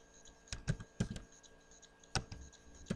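Computer keyboard typing code, a handful of sharp, close keystroke clicks in short irregular bursts with quiet gaps between them.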